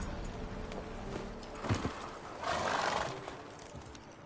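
Geralt's horse Roach spooks in The Witcher 3, giving a brief whinny and snort amid hoof clatter, followed by a longer breathy neigh over a low outdoor ambience.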